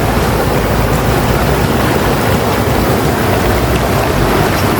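Rushing water from a mountain stream on a hiking trail at Ha Fa Shan near Tsuen Wan, Hong Kong, roars loud, close and continuous with no pauses.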